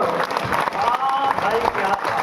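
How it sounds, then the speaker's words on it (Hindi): A crowd claps at a live comedy and folk-song show, a dense burst of applause mixed with voices and a tonal vocal line on top. "पूरा सदन दोनों हाथ ऊपर करके ताली बजाओ"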